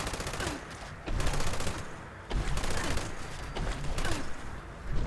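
A Gauss minigun in Fallout 76 fires in sustained bursts, each a rapid buzzing stream of shots with brief gaps between volleys, loud and close over game ambience.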